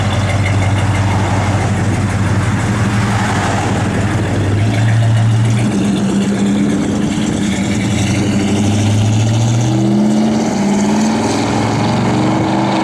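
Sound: 1970 Dodge Super Bee engine idling and revving

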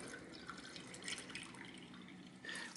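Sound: water being poured into car coolant radiator

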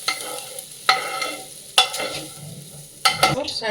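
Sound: egg tadka sizzling into dal

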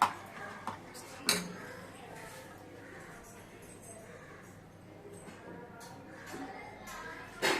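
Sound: stirring ragi porridge in a pot

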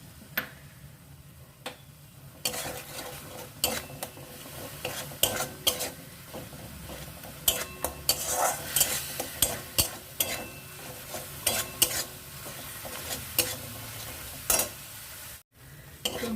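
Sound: spice paste being stirred and sautéed in a pan

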